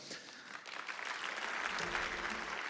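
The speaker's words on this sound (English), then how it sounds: "So please share a round of applause to her." Conference audience applauding to welcome a speaker on stage, a dense wash of many hands clapping that starts softer and swells to a full, steady round.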